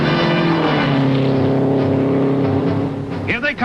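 1960 Indy 500 race cars near top speed roar by with a loud, sustained engine wail whose pitch sags early on, then breaks into shifting, rising notes near the end.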